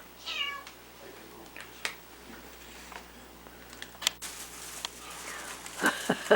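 A domestic cat meows a few times, a brief cry near the start followed by scattered soft clicks, rustles and small knocks around it, with no talking heard.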